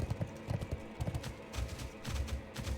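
Death charger horse hooves clip-clop in World of Warcraft: a rapid, rhythmic run of hard hoofbeats, fairly close and steady, with a faint hint of a whinny and no talking.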